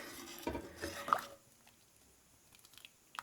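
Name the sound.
stirring cooked moringa leaves dal in a pot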